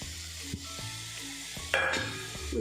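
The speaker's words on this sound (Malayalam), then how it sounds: "പച്ചമണം മാറുന്നിടം വരെ ഇളക്കാം." Chili powder, garam masala and pepper powder sizzle in hot oil as a spoon stirs them, with steady frying crackle and occasional scraping strokes, loud and close, no voices.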